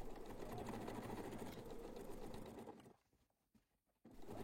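A sewing machine runs steadily while stitching a shopper bag seam, then stops briefly before starting again, with the close whirring stitch sound heard alone.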